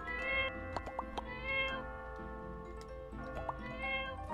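A cat in a farming-life video game meows repeatedly, several short clear mews spaced over a few seconds against a soft steady game-music background.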